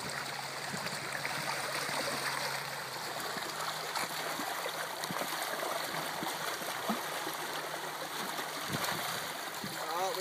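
Stream water churned during kick-and-sweep benthic sampling, with continuous rushing flow and scattered splashes and sloshes, steady and close.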